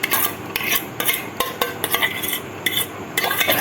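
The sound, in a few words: stirring paneer into thickening milk in a kadhai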